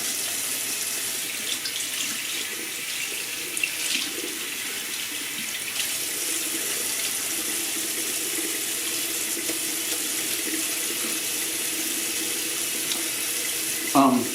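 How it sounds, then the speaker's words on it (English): Tap water runs steadily while soap is rinsed and squeezed out of a badger shaving brush, a continuous splashing hiss with a few brief louder splashes along the way. "rinse and squeeze until there's no soap coming out"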